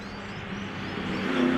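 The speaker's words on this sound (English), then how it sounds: "One of the loudest cars here this weekend, that machine." A historic British rally car's engine revs loud and close on a hairpin stage, the roar steady then swelling toward the end, with a high whine creeping in, and no voices over it.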